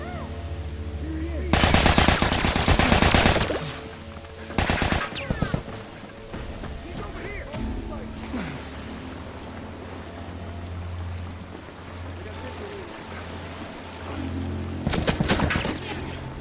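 Bursts of rapid automatic gunfire in The Last of Us Remastered: a long loud volley, a shorter one soon after, and another later, with quieter game ambience and faint voices in between.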